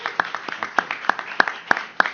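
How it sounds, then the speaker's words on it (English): An audience at a Kiva City Philadelphia event claps for Sylvia, with sharp, distinct claps landing in a fairly even rhythm, close and moderately loud over a quiet room. "why don't we give Sylvia a huge round of applause"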